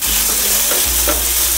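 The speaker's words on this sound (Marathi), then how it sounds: "आता टोमॅटो चांगले मऊ होईपर्यंत आपण शिजवून घेऊया।" Tomatoes with dried chili, kasuri methi and salt cook in a pan for dal khichdi, giving a steady close sizzle with a few soft stirring scrapes and no voices.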